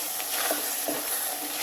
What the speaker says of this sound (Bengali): এটাকে এ পর্যন্ত আমি নাড়াচাড়া করব, নেড়ে দিব যে পর্যন্ত টমেটোর মধ্যে থেকে তেল না বের হবে।